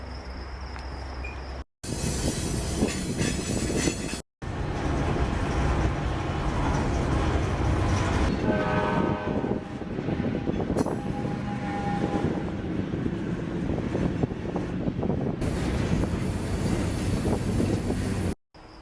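Steady rumbling and clanking of a freight train rolling through a rail yard, heard from aboard the train, with wind buffeting the microphone and brief cuts in the sound.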